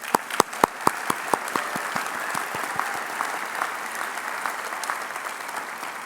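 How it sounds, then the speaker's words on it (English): Graduates at a commencement ceremony break into applause: a few sharp, loud early claps quickly swell into dense, steady clapping from a large crowd that carries on evenly to the end. "So please give yourselves a round of applause"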